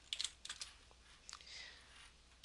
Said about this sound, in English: you can go ahead and type your sentence.